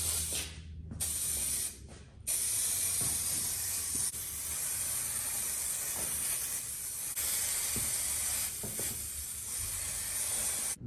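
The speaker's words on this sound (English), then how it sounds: "I'll let it dry and then spray the paint." A spray can hisses in several long steady bursts separated by brief pauses, close and fairly loud, while spray painting a Mustang car part.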